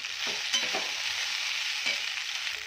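Poha stirred into masala in a frying pan with salt added. A continuous close sizzle plays with a few scraping stirs mixed in.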